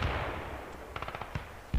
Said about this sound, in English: exacerbated by the distant sounds of Soviet artillery and machine gun fire